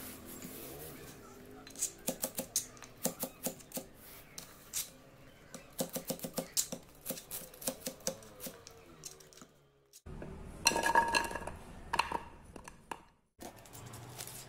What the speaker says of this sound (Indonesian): sekarang kita potong-potong dulu ya teman-teman, seperti bawang merah dan juga bawang putihnya ini